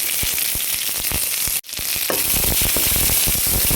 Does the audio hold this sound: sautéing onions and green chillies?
yes